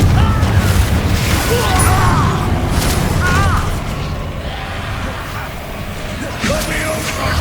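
Confringo spell explosions in the Hogwarts Legacy video game: a dense, booming burst of crackling magical effects. Loud at first, it eases into a lower rumble, then flares again near the end.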